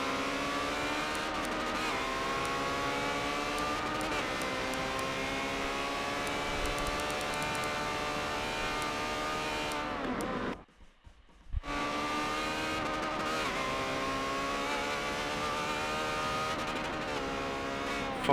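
Ferrari 360 Challenge Stradale race cars at Hockenheim: high-pitched engines wail loudly and steadily as they rise and fall through gears, with a brief drop-out near the middle before the howl resumes.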